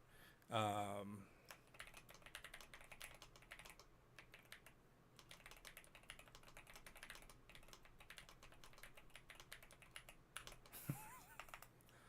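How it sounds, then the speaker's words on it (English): Soft, rapid clicking of fingers typing on a computer keyboard, steady and fairly quiet throughout, with a brief louder sound near the start. "I'm just typing in whatever I see."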